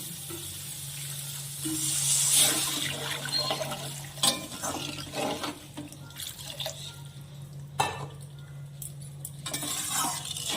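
Water poured into a pan of cooked tomato spice paste for a Bengali hilsa fish curry with potato and eggplant, a steady splashing pour with scraping and stirring clinks, nearby and moderately loud, no talk.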